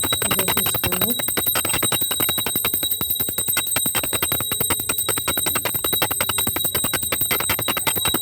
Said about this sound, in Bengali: একটু ঘন্টা বাজালাম, তারপরে মন্ত্র করে পুজো শেষ করবো